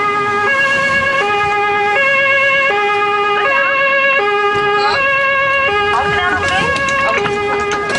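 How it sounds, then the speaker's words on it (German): A German police car siren, the Martinshorn, blares loud and close during an urgent emergency run, its two tones alternating in a steady rhythm with engine and road noise underneath. "Wenn es um Leben und Tod geht, wird eine Nullfahrt mit Blaulicht und Martinshorn von der Zentrale angeordnet."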